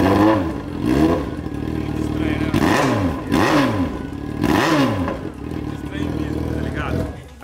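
A faulty Yamaha XJ6 motorcycle engine runs close by, rising and falling through repeated revs with a rough, clattering edge, loud and steady for several seconds.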